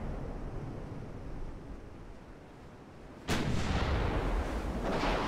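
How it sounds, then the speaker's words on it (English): Torpedoes launch from a battleship in the naval video game Ultimate Admiral Dreadnoughts: a quiet rumble of sea and engine, then a sudden loud, blasting whoosh that lingers as a sustained roar. "It's happening. Torpedoes away."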